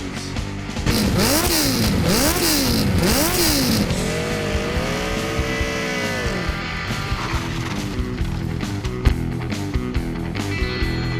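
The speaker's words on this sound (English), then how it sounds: "Rev up your engines!" An engine revs hard several times in rising and falling sweeps, then holds a sustained high roar, loud and close, with no talking.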